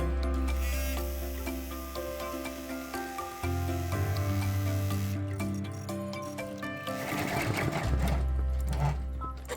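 A sewing machine satin-stitches around the base of a scrappy cat oven mitt, whirring in a fast steady hum that changes speed a few times, close up with no talk.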